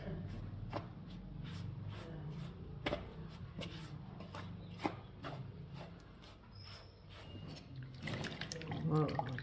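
Water runs into a kitchen sink while things are washed during spinach paratha preparation, with uneven splashes, drips and rinsing clatter through the whole stretch and a voice faint in the background.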